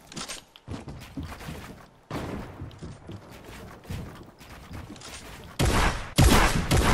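Drum gun firing in a video game, with rapid bursts and scattered shots over busy game noise, growing louder and denser toward the end.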